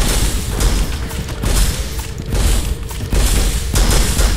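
Rapid sentry gun fire in the Turok video game, dense overlapping bursts of shots and booms with no pauses, loud and close throughout.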